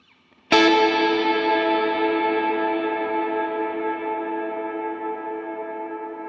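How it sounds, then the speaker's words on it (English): A guitar chord is struck once through a long plate reverb on a Line 6 Helix, blooming loudly and then sustaining in a slow, smooth wash that fades only gradually, with no voices. "I'm going to set a lengthy reverb here. Let's go up to 18 seconds."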